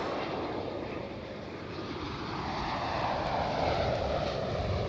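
Boeing 787 Dreamliner engines at Amsterdam Schiphol make a steady, moderately distant broadband roar that swells slightly toward the end, with no voices over it.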